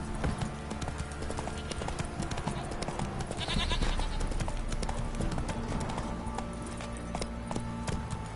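The horse Roach trots in a fantasy role-playing game, making a steady clip-clop of hooves close by over ambient noise, with a few faint animal and background sounds mixed in.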